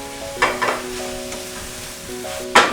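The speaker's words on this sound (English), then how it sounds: "Let's stir more." Seaweed for a vegan salad frying in a pan, with a steady sizzle broken by a few loud scraping stirs near the start and end, and a sustained tonal hum running underneath.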